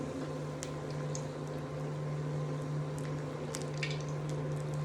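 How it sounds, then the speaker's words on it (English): Steel cut oats bhajia batter frying in hot oil, a faint, steady bubbling sizzle over a constant low hum, with scattered small crackles and pops. "Just bring the batter together and start dropping them in the hot oil"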